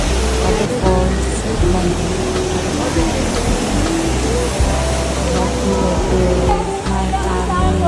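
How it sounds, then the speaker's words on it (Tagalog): Indoor waterfall inside a shopping mall in Singapore, a steady broadband rush of falling water that holds at the same level throughout, with faint crowd murmur and voices mixed underneath. "Waterfalls."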